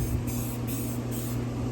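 A steady spray gun hisses continuously at close range, spraying primer sealer onto textured plastic, with a faint pulsing in the hiss and a low hum underneath.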